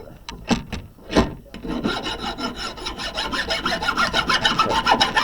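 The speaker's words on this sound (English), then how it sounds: "you don't want to be filing like this because then it won't be a flat chamfer" A hand file rasping across a workpiece to cut a flat chamfer, a few separate strokes at first, then a quick, continuous back-and-forth scraping rhythm, close and fairly loud.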